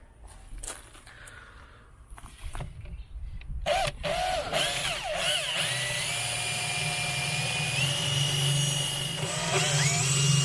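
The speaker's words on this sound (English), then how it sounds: "the last thing I want to do is to drill some holes for drainage" A power drill bores drainage holes for a fruit tree transplant, beginning with a few faint clicks and handling noises, then spinning up into a loud, sustained whirring grind that runs steadily to the end.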